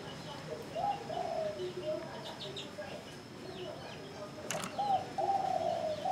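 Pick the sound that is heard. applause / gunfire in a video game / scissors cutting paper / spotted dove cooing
spotted dove cooing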